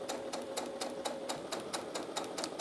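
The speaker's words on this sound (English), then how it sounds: "So I'm just going to continue to sew along using my dots as a guide" Domestic sewing machine stitching a satin-lined bonnet and its elastic casing, a close, steady, rapid run of rhythmic needle clacks with a faint mechanical whine underneath, and no talking.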